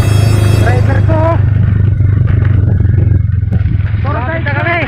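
A motorcycle rides over a rocky road with large stones, its engine a steady low drone with some rattling while people talk over it throughout.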